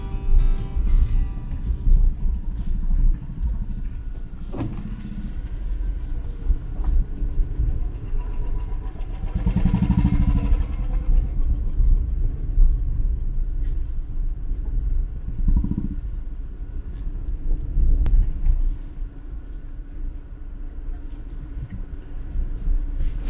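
A Renault Kwid car driving on rough jungle terrain near a butterfly camp in Kollur, a continuous low engine rumble with bumps and rattles and a surge of revving partway through.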